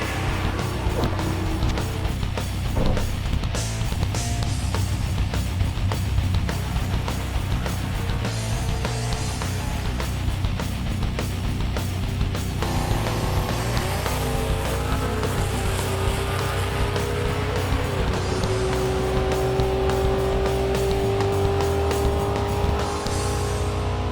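A race truck launches hard down a drag strip, its engine roaring loud and steady, then rising in pitch through the run before fading toward the end.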